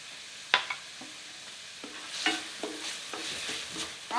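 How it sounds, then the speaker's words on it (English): Onions hiss softly in a hot pan while frying for a Bengali shrimp curry, as a utensil scrapes and knocks against it a few times in irregular strokes, close by. "to help speed up the process of frying up the onions"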